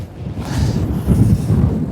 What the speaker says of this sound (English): That's big massive gusts.